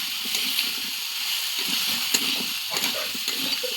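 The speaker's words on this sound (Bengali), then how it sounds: "কচুটা দিয়ে দিয়েছি, আর এই যে নুন আর হলুদ করে দেওয়া হয়ে গেছে, দিয়ে ভালো করে ভেজে নেব" Taro frying with salt and turmeric in a pan, a steady hissing sizzle with soft stirring scrapes and bubbling pops underneath, no talking.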